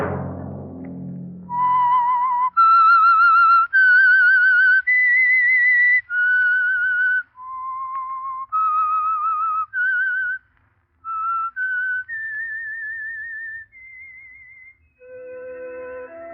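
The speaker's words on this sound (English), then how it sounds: "Let that whistle be your signal for the Signal Oil program, The Whistler, each Monday at 9." The whistled theme signal of the radio mystery program The Whistler: a lone, clear melodic whistle of about a dozen sustained notes rising and falling, close and loud, with no talk.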